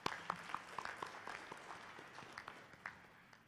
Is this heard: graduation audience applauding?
yes